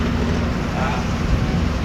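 Cold wind rushes past a moving truck on the road, a steady broadband roar with low rumble, loud and constant through the whole stretch.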